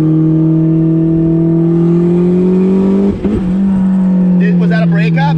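A turbocharged Mazda Miata engine drones loudly and steadily from inside the car, then stutters briefly and breaks up under boost before resuming its hum, with voices talking over the engine.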